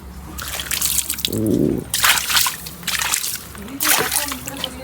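Water is poured into holes in the soil around peanut plants at home, giving bursts of splashing and trickling that come and go in short pours, close by, with a brief voice in between.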